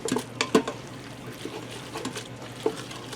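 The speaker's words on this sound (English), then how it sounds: "now I'm going to add in a can of chicken broth" Canned chicken broth pours from a can into an Instant Pot of cannellini bean chili with a liquid splash and trickle, a few sharp clinks of the can near the start.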